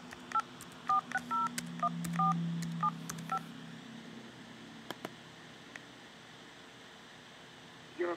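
Telephone keypad tones dial out a test call on a PBX phone system: a quick run of about a dozen short, clear beeps in uneven rhythm, followed by faint line hiss and a few clicks.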